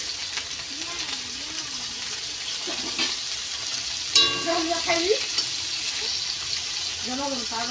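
Tempering spices sizzling in oil on a gas stove, a steady hiss with scattered stirring scrapes and clinks, and a voice talking briefly in the background.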